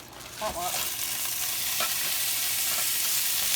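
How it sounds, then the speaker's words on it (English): Broccoli tossed into a pan with leftover beef and stir-fried, a steady close sizzle with brief stirring scrapes near the start. "So now it just wants me to put the broccoli and stir fry for about 5 minutes."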